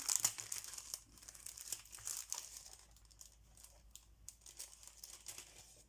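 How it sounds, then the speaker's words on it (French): Plastic packaging crinkles and tears as it is pulled open, close and fairly quiet, in scattered crackly bursts that thin out toward the end. "Qu'est-ce que c'est casse-pied ces emballages?"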